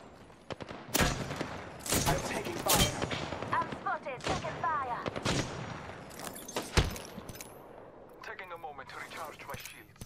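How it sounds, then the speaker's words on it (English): A video game shootout brings bursts of loud gunfire, single shots and quick rapid volleys, while a player talks over the action and in-game effects whir between the shots. "I'm taking fire."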